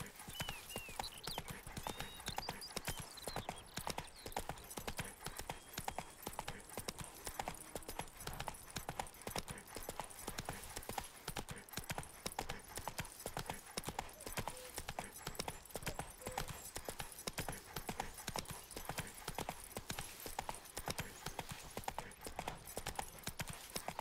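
Horse hooves gallop in a steady, rapid clip-clop rhythm through The Witcher 3, a continuous fairly loud patter with an occasional faint whinny and no talk over it.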